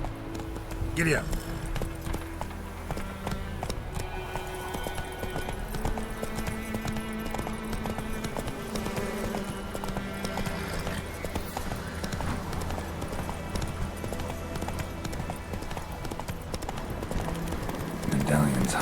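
Horse hooves clip-clop at a galloping pace in the Witcher 3 game, a steady rhythmic beat running throughout with faint ambient game sound beneath.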